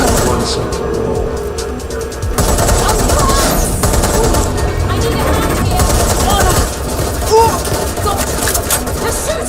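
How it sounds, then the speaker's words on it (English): Automatic gunfire in the video game Watch Dogs Legion keeps up a steady, loud rattle of overlapping bursts for several seconds, with voices talking underneath. "They're shooting! Watch it!"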